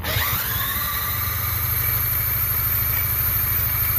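A Polaris Trail Blazer 250 ATV engine idling steadily and close by, a continuous low throbbing putter with no talk.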